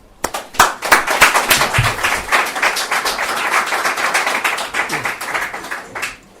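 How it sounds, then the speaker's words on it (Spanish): An audience at a lecture on dream enigmas claps to welcome speaker Javier Cabrejas, starting with a few separate claps and swelling into close, lively applause that thins out toward the end. "Bueno, pues con él os dejo y con un aplauso."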